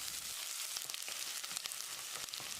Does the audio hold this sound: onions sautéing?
yes